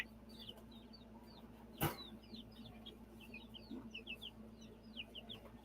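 Chickens cluck and chirp softly at a distance in a quiet farmyard, with a red cockerel among them and a single sharp knock partway through.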